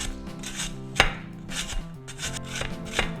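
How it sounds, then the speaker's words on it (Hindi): A peeled carrot is grated on a large shredder, with repeated rasping strokes in a steady rhythm and one sharper scrape near the middle, all over tonal background music. "और अब ये गाजर को हम कद्दूकस करेंगे।"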